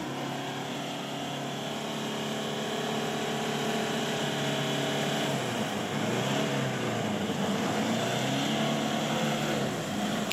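A 4x4 stuck in a mud rut, its engine droning steadily and revving up and down as the driver tries forward and reverse, loud and continuous throughout.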